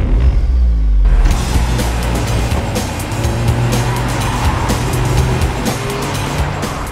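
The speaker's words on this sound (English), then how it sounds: "Wow, this Audi S1 really moves." An Audi S1 Sportback with a 2-litre TFSI four-cylinder engine accelerating hard, a loud close engine roar that builds after a brief quieter start, with tyre noise and no talk over it.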